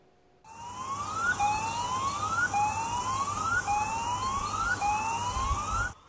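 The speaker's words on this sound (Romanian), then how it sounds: "Sirenele pentru situații de urgență au fost declanșate în mai multe zone ale insulei." Emergency tsunami warning sirens sound across an island after an 8.1 earthquake. A loud wail rises and repeats about every second, with layered tones over a steady background roar.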